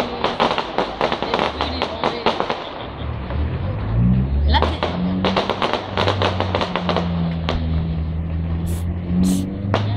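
A bus passes close by on a fireworks night, its engine hum rising and falling beneath sharp crackling bursts, while people talk nearby.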